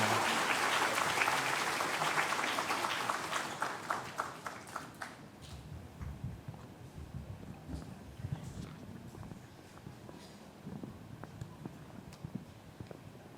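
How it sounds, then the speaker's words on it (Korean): A church congregation at a Sunday worship service bursts into loud, dense applause that fades over about five seconds into scattered claps, shuffling, and footsteps in a large room. "다시 한번 박수 한번 치겠습니다"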